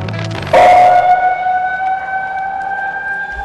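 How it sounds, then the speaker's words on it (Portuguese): Civil defense siren during a flood drill, starting abruptly and sustaining a loud, steady wailing tone with bright harmonics after a moment of background noise. "a sirene tá tocando"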